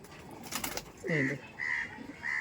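After a brief rustle, a Bangladeshi teddy pigeon gives a few soft, low coos close by, with a faint voice in the background.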